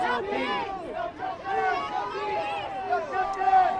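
A protest crowd shouts in unison and chants, many voices yelling loudly together with rising and falling cries, close and raucous throughout.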